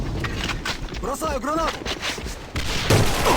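Gunfire in the online shooter AVA: bursts of shots crackle through a busy combat mix, with a heavier blast near the end, under Thai speech and chirpy game effects.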